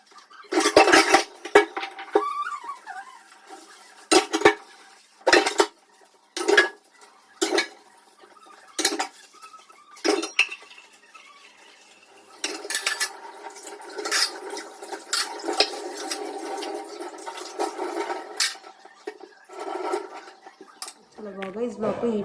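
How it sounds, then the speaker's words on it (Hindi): Dishes and utensils are washed in a home kitchen: sharp clinks and clatters of pots and cutlery come in separate bursts, then a longer stretch of scrubbing and running water, all close by. "अभी थोड़ा से बर्तन रह गए, इस बर्तन को धोते हैं"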